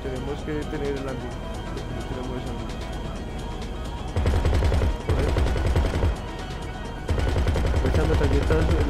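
Gunfire in the video game GTA 5 Online on Xbox One: quick bursts of shots, quieter at first, then loud sustained volleys in the second half, with people talking in Spanish throughout.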